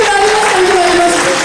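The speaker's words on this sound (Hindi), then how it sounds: "इसको जोरदार तालियां हो जाए।" Loud, close applause from an audience at a Himachal Pradesh stage show, a continuous burst of clapping with a tonal voice or music line running through it.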